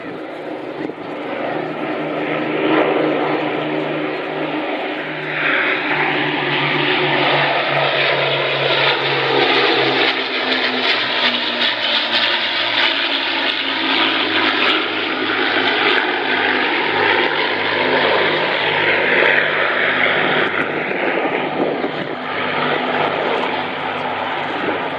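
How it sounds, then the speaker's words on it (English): A pair of propeller aircraft flying past at an air display, a steady loud engine drone with a broad buzzing tone that swells as they pass, and a commentator talking over it. "we'll have one more fly past as a pair"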